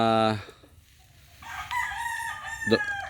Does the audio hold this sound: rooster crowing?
yes